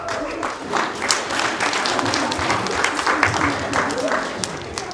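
An annual day audience applauds to welcome young first-time performers, dense clapping rolling on steadily for several seconds with crowd murmur mixed in.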